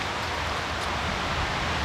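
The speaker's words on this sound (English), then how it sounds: "looks like it's going to start raining again now" Light rain begins falling outdoors at a spring carp-fishing spot, a steady soft hiss of drops pattering on surfaces and foliage, continuous and fairly faint, with no voices.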